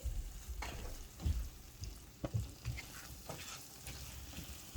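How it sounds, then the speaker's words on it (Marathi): Salted tomato gravy for dhaba-style paneer masala is stirred in a pan, with soft, irregular scraping strokes over a quiet, gentle sizzle, close by and alone. "तर मी आता ह्याच्यात चवीनुसार मीठ ॲड करते आणि मिक्स करून घेते"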